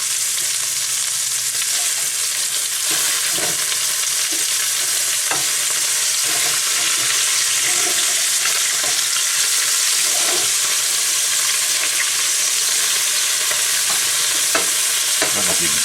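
Burger patties sizzle steadily in a frying pan, a constant close crackling hiss that runs unbroken, with occasional faint clinks and taps over it.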